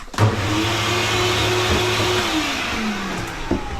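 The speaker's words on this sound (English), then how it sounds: "I'm just gonna blow off this table real quick." An air blower clearing off a dog grooming table gives a steady, loud whooshing roar with a faint motor whine that shifts pitch slightly, running continuously without any talk.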